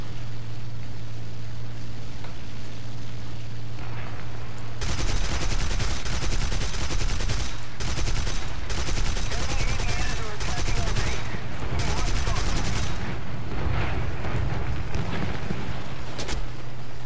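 Aircraft cannon fire in War Thunder, dense loud bursts of rapid automatic shots that start abruptly after a quieter engine drone and continue in stuttering volleys with brief gaps.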